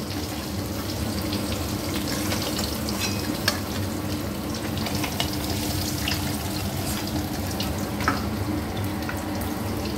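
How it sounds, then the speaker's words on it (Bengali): Pieces of catla fish shallow-frying in oil in a wok, a steady dense crackling sizzle that carries on evenly throughout, close up and loud, with no voices over it. "এভাবেই বাকি মাছগুলোও আমি ভেজে নেব।"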